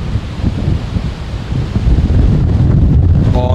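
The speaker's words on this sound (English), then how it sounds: "Oh, that gust of breeze." A steady gust of wind on a golf course at Tenterfield Golf Club buffets the microphone, a loud rumbling roar that swells in the second half.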